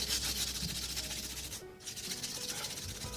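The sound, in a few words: scraper scraping excess wax off a panel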